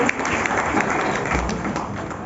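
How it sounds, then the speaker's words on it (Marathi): Audience applause fills the room at a career guidance event for BMC staff students: dense, steady clapping from many hands at a constant, loud level from start to finish. "एक जोरदार टाळ्या वाजू द्या पाटील कुटुंबांच्यासाठी."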